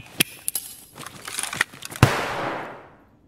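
A flashbang grenade goes off in the shooter game Escape from Tarkov, a sharp loud bang following several scattered gunshot-like cracks, with a long fading ring after the blast.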